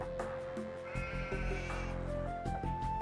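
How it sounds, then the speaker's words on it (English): Sheep bleating in the strategy game Age of Empires II, several short wavering bleats in quick succession over game ambience and soft music, close and moderately loud. "Stealing my sheep here, it's not gonna work."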